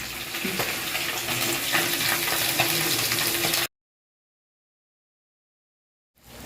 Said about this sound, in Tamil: இப்போ பாருங்கள் இஞ்சி வெங்காயம் எல்லாம் வதங்கிட்டுது